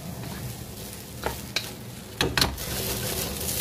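Mixed seafood fried rice with sesame oil stir-fries in a pan, a steady soft sizzle broken by a few sharp scraping stirs of the spatula.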